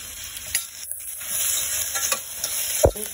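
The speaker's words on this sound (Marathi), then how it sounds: "हे मी कुकरमध्ये करत आहे. तेल तापलं आपलं, त्याच्यामध्ये ॲड करत आहे मी." Ingredients dropped into hot oil in a pressure cooker, a close, bright sizzle with stirring scrapes and a sharp knock near the end, no voices.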